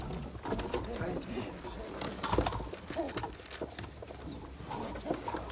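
Bango pigeons coo on a balcony, a continuous close murmur of soft calls over a busy background, with a person talking intermittently.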